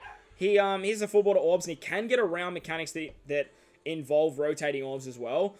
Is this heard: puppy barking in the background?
yes